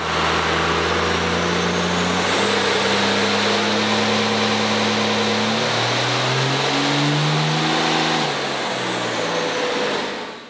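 A Cummins diesel truck with a VP44 injection pump runs hard on a dyno, a loud, close engine roar climbing steadily through the rev range over a high whine before easing off at the end.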